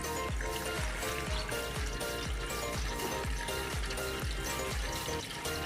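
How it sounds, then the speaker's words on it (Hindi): Water is poured steadily into a pot of beef trotters, roughly two litres, making a continuous splashing trickle. Regular soft knocking sounds repeat beneath it, and no one speaks. "ये पानी हमने डाल दिया है।"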